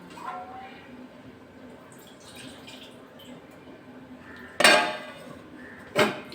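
A metal lid is set onto a cooking pot of Bengali egg, cauliflower and potato curry, giving two sharp clinks near the end after a quiet simmering stretch with some speech.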